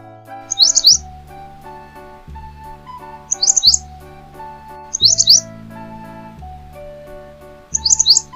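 Bulbul bird chirps come in four short, bright bursts spaced a few seconds apart, laid over a steady background of gentle music.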